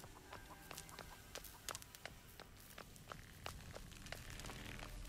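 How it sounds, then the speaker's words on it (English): Chickens cluck and scratch faintly in the Texas Chain Saw Massacre video game, scattered short clucks and pattering ticks over a quiet ambient background, with no talk. "Chicken around here."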